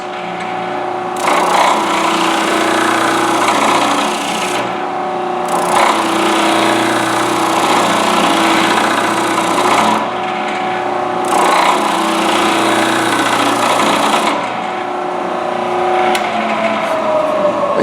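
A steady spindle sander drone runs throughout while gritty sanding of wood rises in three long bursts, pausing briefly between each pass, close and loud.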